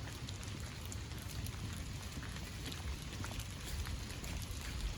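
Rain falls in a forest along a walking trail. It is a steady, close patter of drops on leaves and the ground, with scattered sharper hits and no talking.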